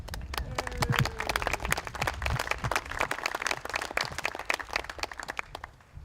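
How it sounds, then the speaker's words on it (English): A crowd at a political rally honouring American Legion veterans breaks into applause, many sharp claps merging into steady clapping that gradually thins and fades. "I think we need to applaud that"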